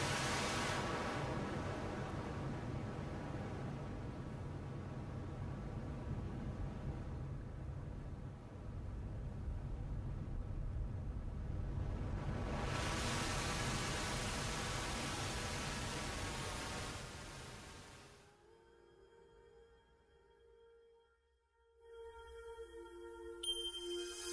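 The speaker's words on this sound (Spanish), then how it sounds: "podemos obtener otro tipo de ruidos, otros tipos de colores mediante la combinación de estos filtros fijos" A Moog synthesizer's noise generator plays white and pink noise shaped by fixed filters. A steady, loud hiss changes colour over about twenty seconds, then drops to a quieter tonal tail.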